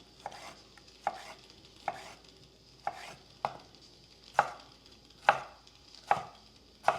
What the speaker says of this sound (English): Let's go ahead and slice the tomato.